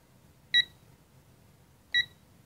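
A digital torque wrench adapter set to 26 foot-pounds gives two short, clear electronic beeps about a second and a half apart, close by in an otherwise quiet workshop.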